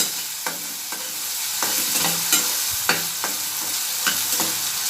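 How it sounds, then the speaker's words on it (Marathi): Onions sauté with salt in a pan for a bitter gourd bhaji, giving a steady sizzle broken by repeated scraping stirs of a spoon against the pan. "कांदा छान आपला परतत आलेला आहे"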